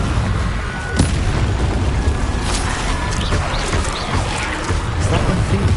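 A Confringo fire-blast spell from Hogwarts Legacy bursts with a loud booming impact amid dense, continuous combat noise and other spell effects, with no voices.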